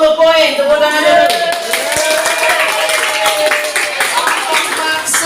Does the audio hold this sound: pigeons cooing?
no